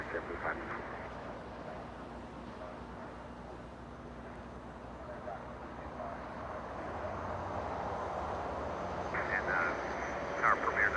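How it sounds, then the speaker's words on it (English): An American Airlines airliner from Dallas taxis on a taxiway at Los Angeles International Airport after landing, a steady distant engine rumble with broad airport noise, growing slightly louder toward the end, with faint voices in the background. "American 2543 on a taxiway hotel after landing."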